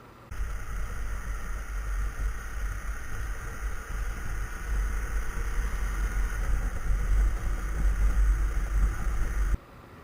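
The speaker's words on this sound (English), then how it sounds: "with the Puig installed, the wind noise sounds like this." Heavy wind roar buffets the helmet of a rider on a BMW F750GS motorcycle fitted with a Puig windscreen, with dense low rumble and a steady high whine for most of the ride, then a sudden drop near the end.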